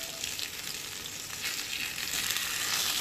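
Salted pork bacon, already cooked sous vide, sizzling in a hot pan: a close, continuous crackling fry that grows slightly louder, with no talking.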